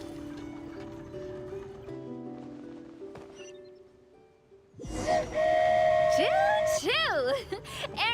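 A flying train called the Aerial Express sets off in the Genshin Impact video game, with rumbling motion sounds and rising, whistle-like tones after an abrupt start midway, under game music and chatter.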